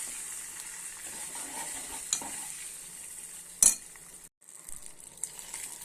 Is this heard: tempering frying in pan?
yes